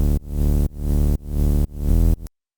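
Serum synth bass patch with noise and a filtered sub: four sustained, buzzy bass notes, each swelling in loudness, with dense harmonics and a hiss layer, the last note shifting pitch before a sharp cutoff into silence.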